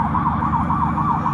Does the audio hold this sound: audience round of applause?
no